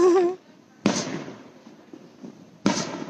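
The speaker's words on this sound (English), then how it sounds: "we're just out here in front of our house watching fireworks" Fourth of July fireworks outside a house in Arlington, Texas, with two sharp booms followed by crackling decay, fairly close and loud, after a brief sound at the start.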